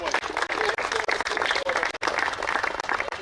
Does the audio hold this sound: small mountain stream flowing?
no